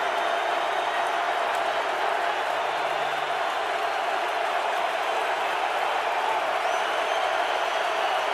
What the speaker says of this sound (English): Crowd pumps up the volume